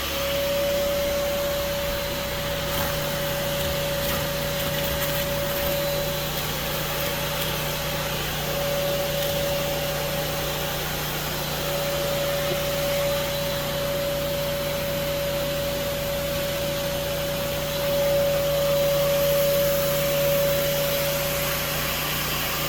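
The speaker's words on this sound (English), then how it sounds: "So let's start vacuuming them up." A vacuum cleaner sucks up hornets from a nest in a horse stall, running steadily with a loud, constant drone and high whine, unchanging throughout with no voices.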